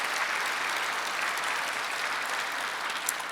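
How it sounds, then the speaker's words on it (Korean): Congregation clapping during a Korean church Sunday worship service, a dense, steady wash of many hands that holds evenly for the whole stretch with no voices on top. "박수 한번 쳐봐요."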